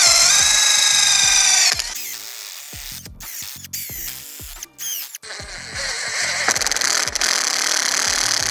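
A power drill with a 7/16 inch bit bores into metal grill cart legs, giving a loud high whine that stops and restarts in several short bursts with pauses between.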